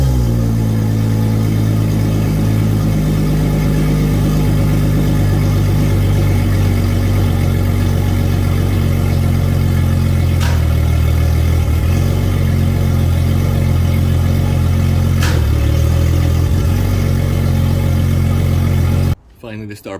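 The center engine of a Regal 38 XO boat rumbling steadily at idle, a deep continuous drone with a couple of brief clicks, then cutting off abruptly at the very end.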